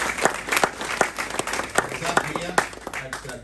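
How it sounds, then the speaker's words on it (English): A community crowd gives a big round of applause at a Salvation Army reopening in Logan, dense clapping close and loud across the whole span, with voices mixed in underneath. "I think we should give them a big round of applause as well."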